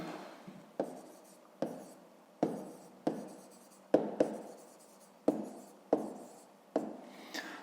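Ballpoint pen writing on paper during a fifth-grade maths exercise: close, quiet scratching in repeated short bursts, each stroke opening with a small tap, at an irregular steady pace without any voices.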